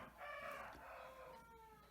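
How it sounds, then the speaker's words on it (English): A rooster crows once, faint and distant, in a drawn-out call over quiet background noise, with no one talking. "That darn rooster."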